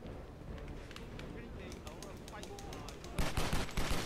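Gunfire in the video game Stranglehold, rapid automatic bursts running throughout amid a busy game mix, growing louder and denser near the end.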